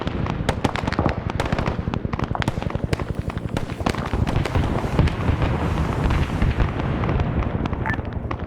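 Rocket strikes hit targets in Arma 3 SOG Prairie Fire. A rapid, dense string of sharp cracking impacts and blasts runs continuously, loud and close, with brief fluctuations.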